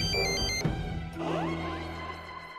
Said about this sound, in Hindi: ये फोन भी बकत पे बकत बजना लगता है